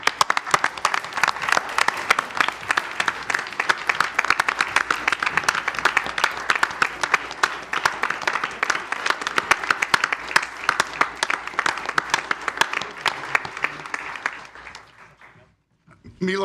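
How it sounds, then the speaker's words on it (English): Applause from the audience at a La Grange village board meeting honoring a retiring member, a dense, steady clapping from a roomful of people lasting about fifteen seconds before fading out abruptly near the end. "So a round of applause for Milo."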